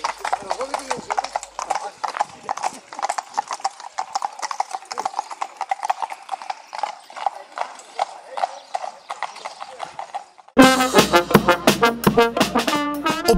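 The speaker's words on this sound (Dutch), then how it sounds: "Bezoekers en deelnemers genoten van het prachtige schouwspel van langstrekkende paarden en aanspanningen" Horses pulling carriages at an outdoor street parade clip-clop past on pavement, a steady run of hoof strikes that continues throughout, joined near the end by a louder, closer burst of hooves.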